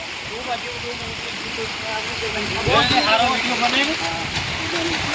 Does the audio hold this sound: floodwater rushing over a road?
yes